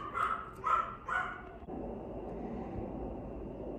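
A small Yorkie barks three times in quick succession close by, followed by quiet room noise with no speech.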